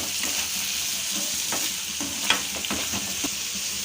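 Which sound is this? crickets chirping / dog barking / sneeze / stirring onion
stirring onion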